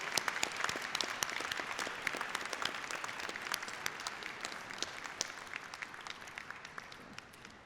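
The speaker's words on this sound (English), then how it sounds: "I think you deserve an extra round of applause" Audience applause at a 2016 business school commencement, honoring honor-society graduates: steady dense clapping from a large crowd in a hall, sustained at even moderate loudness throughout with no talk over it.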